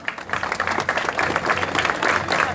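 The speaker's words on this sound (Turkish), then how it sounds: "Alkışlarınızla." Audience applause at a Tekirdağ sports award ceremony as an athlete is called to the stage, brief mid-level clapping from a small crowd with distinct individual hand claps.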